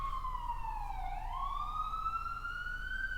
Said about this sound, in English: Let's wait for the sirens to pass